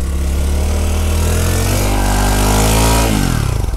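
A Honda Trail 125 motorcycle engine runs loud and close while ridden through snow, a steady revving drone with strong low harmonics that climbs in pitch and then drops back near the end.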